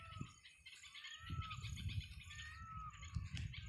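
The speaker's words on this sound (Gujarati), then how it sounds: "પંખી પાંજર બધા બોલે હો." Birds chirp and sing continuously on a village farm, several calls overlapping in a steady chorus, with low rustling and ambient noise underneath and no voices.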